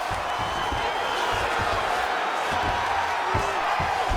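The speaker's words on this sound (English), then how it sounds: "huge pop from the crowd as the fighters get back up to their feet" A packed arena crowd at a UFC title fight roars loudly and continuously, a broad wash of cheering and shouting with no break throughout.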